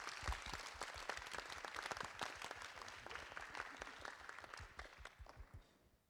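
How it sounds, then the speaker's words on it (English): An audience at a research event applauds its panelists with a sustained round of clapping, fairly distant and quiet, that fades out at the end. "Can we all have a round of applause for our panelists?"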